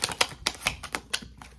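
Tarot cards shuffled by hand give a quick series of sharp, crisp riffling snaps, about seven close, light bursts in an uneven rhythm.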